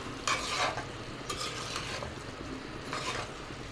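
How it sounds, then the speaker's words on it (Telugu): Chicken and cauliflower curry being stirred after salt and turmeric go in, giving a few short scraping strokes of a spoon over a soft sizzle, close and alone. "ఇది మొత్తం ఒకసారి కలిపేసుకుందాం."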